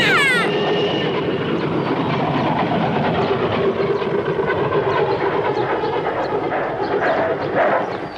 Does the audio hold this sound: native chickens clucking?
no